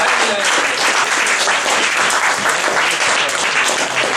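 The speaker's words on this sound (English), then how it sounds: "give a round of applause to our first place and last place" Loud, dense audience applause rings out at the end of a Mafias event night, honoring the first- and last-place finishers, sustained and close throughout.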